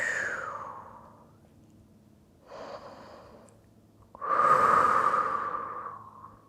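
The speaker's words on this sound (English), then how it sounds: "Let's take 2 more breaths here in our version of Janusirsasana." Slow yoga breathing during a seated forward bend, two long, soft breaths with a gentle hiss, close and quiet, separated by a pause, with no talk.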